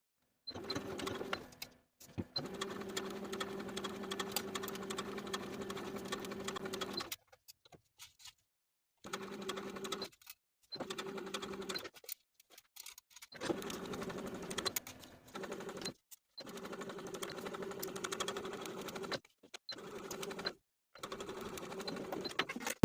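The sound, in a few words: sewing machine stitching tank top neckline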